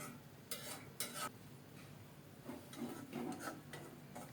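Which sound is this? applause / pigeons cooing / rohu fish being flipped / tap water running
rohu fish being flipped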